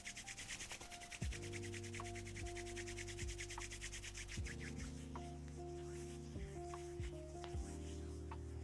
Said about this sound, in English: Rub your hands vigorously to stimulate energy flow and circulation